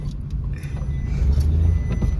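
A car speeding along a road between Ooty and Avalanche, a steady close engine and road roar with a slight rising surge, heard alone without voices.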